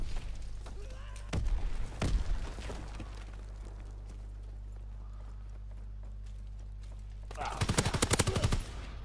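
Weapon fire from a WWII-era gun in a first-person shooter video game, with short loud bursts around the second mark and a denser rapid volley near the end, over steady low game rumble and clip-clop-like impacts.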